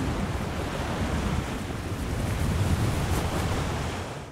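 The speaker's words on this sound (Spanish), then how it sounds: "el mar Caribe." Caribbean Sea waves wash in a steady broadband surge, moderately loud and close, with a slight swell toward the middle and no voices.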